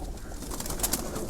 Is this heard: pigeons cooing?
yes